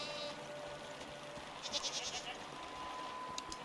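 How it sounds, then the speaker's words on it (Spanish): A goat-like creature in the video game SEASON: A letter to the future bleats softly a few times over a quiet ambient background. "What are these strange goat-like creatures? Are they simply goats?"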